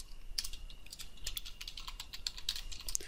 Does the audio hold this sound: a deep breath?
no